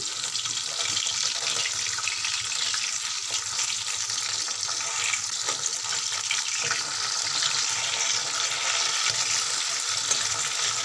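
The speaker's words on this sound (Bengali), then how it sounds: "এখানে আমি মাছগুলো ভাজা করছি" Fish frying in oil in a wok gives a steady, dense hiss and crackle that carries on evenly, fairly quiet and close, with no voices.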